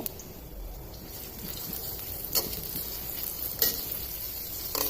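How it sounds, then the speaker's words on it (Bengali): Chopped onions fry in hot oil, sizzling steadily up close, with a few sharp stirring scrapes and clinks spaced through the stretch and nobody speaking. "গরম তেলে এখন দিয়ে দেবো পেঁয়াজ কুচিগুলো"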